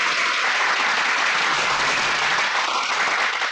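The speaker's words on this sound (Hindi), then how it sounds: "बजाओ ताली।" Loud, dense applause from a crowd in a Hindi film scene, a steady wash of clapping that fills the whole stretch without pause, with no speech over it.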